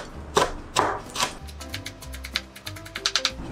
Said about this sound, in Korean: 이렇게 잘게 썰어주세요.